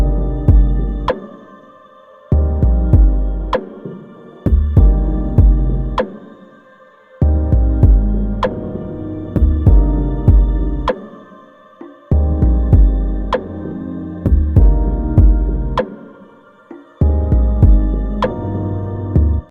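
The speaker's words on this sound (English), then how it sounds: "let's listen to this beat without any effects or EQing applied, where the kicks and 808s are playing at the exact same time" Hip-hop beat with kicks and 808 bass hitting together, raw with no effects or EQ, looping in steady bars with deep booming low end and sharp percussive ticks, loud and alone.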